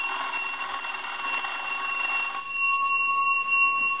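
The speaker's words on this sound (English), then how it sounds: "We want to go ahead and ring the telephone." A Western Electric Rotary 202 desk telephone with a bell box rings in one long, steady metallic trill that stops abruptly partway through, leaving a faint hum behind it.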